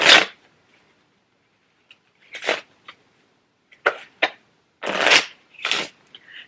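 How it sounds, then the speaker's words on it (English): A deck of playing cards is shuffled in several separate bursts: crisp riffling rasps, each lasting about half a second, broken by short pauses and a few lighter taps, heard close up in a quiet room. "Let's shuffle."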